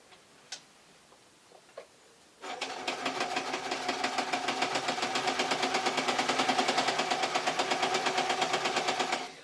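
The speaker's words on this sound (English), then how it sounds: "I'm now only sewing 2 bits of fabric" Domestic sewing machine running a straight stitch through two layers of fabric: a couple of soft clicks, then the motor starts and a fast, even, close mechanical ticking continues steadily to the end.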